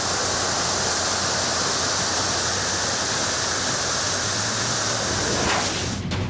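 Abbyala waterfall beside the Madikeri–Chettalli road in Karnataka, running full after heavy monsoon rain, gives a steady, loud, close roar of rushing water that fills the whole stretch and cuts off abruptly at the very end.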